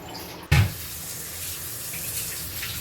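Kitchen tap water running over small potatoes being washed before boiling, a steady hiss of flowing water that starts with a sudden splash and continues evenly.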